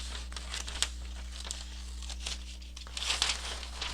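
Pages are cut from a Little Golden Book as it is taken apart for a journal, giving soft close paper crinkles with faint snips and rustles at a low level.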